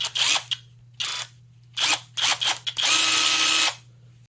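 Hyper Tough brushless cordless electric ratchet running in short bursts: several quick close whirs, then a longer steady spin of nearly a second over a low hum, with no talking.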